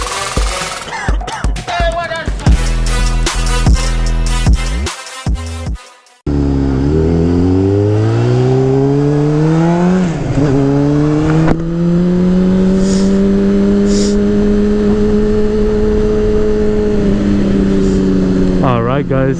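A 2007 Honda CBR600RR sport bike engine, first rapid stuttering bursts, then after a cut it pulls away in a steady rising drone that holds loud and close, with a voice speaking over the riding.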